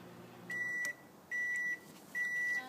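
Microwave oven finishing its cycle: three evenly spaced electronic beeps, each about half a second long, sounding clearly over a low steady hum.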